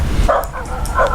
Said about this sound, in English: it looked like they were barking and trying to get closer to me